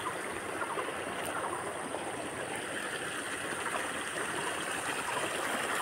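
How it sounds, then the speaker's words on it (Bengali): A large volume of water rushes steadily through a stream in a Khasia village area during the rainy season, a dense, loud, unbroken roar heard close by and alone. "ওই দেখো জল, কত প্রচুর পরিমাণে জল"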